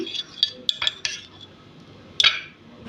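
A spoon stirs sauce with lemon juice and salt in a bowl, giving a handful of sharp clinks and scrapes in quick irregular bursts, close by and with no voices.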